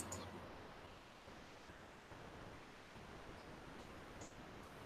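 Faint running water plays in the background as a soft, even hiss, steady and distant with no other sounds over it.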